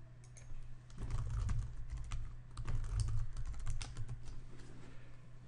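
A passphrase is typed on a computer keyboard as a rapid, close run of key clicks lasting several seconds, with no talking.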